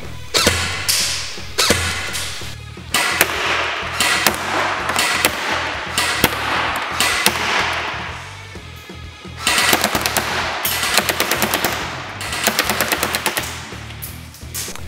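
A G&G UMG UMP-45 airsoft gun clamped in a vise fires long rapid bursts on a test range, a loud mechanical rattle of closely spaced shots with brief gaps between strings.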